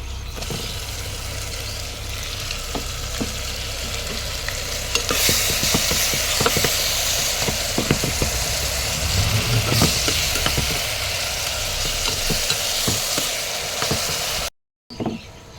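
A large chopped onion hits hot oil in a pan, the frying rising to a louder, dense crackle with clicks of stirring over a low background hum, ending in a brief cut to silence.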